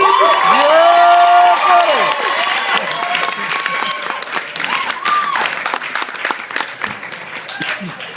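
Comedy club audience at Yuk Yuk's bursts into applause and cheering for a stand-up comedian, dense clapping with whoops and shouting voices at first, then thinning into scattered claps and crowd murmur.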